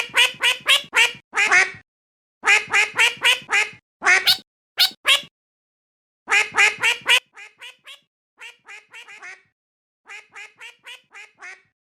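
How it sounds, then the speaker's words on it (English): A duck quacks loudly in rapid bursts of several quacks, with short pauses between them; later bursts sound thinner and quieter, and no voices are heard. "a duck"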